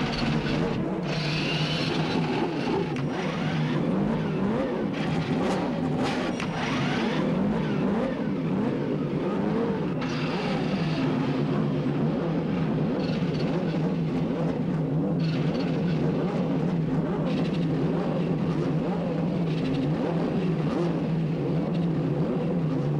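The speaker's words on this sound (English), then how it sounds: "Gentlemen, start your engines!" Cars on the grid of the 1992 CART Michigan 500 in Michigan, including Michael Andretti's, fire up and rev, a continuous dense roar with surging engine notes throughout.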